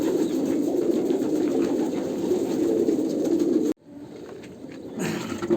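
A large home flock of Andhra pigeons makes dense, continuous cooing close by. It cuts out sharply for about a second, then resumes more quietly.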